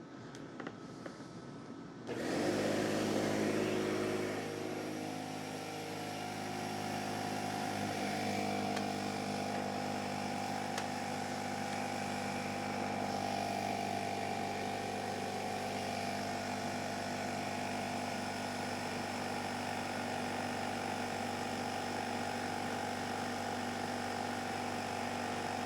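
An air compressor starts and runs steadily off a portable power station, a loud continuous motor drone with a strong harmonic hum that holds for over twenty seconds after an abrupt start.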